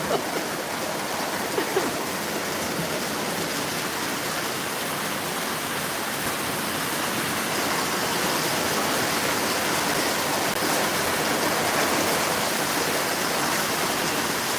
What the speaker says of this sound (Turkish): Şiddetli bir yağmuru seyrediyoruz hep beraber